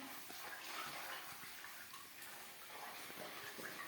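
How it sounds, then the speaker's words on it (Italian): Water runs from cold and hot taps in a rustic bread-making kitchen in Sanza, a faint steady gushing and splashing flow throughout, with no talking. "questa è l'acqua fredda e questa è l'acqua calda, dove io vado a prendere un po' fredda e un po' calda"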